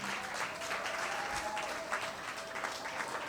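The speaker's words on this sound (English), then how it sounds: "Let us give that guy a hand of applause again." Steady applause from a crowd at a fundraising event, clapping continuously throughout without pause.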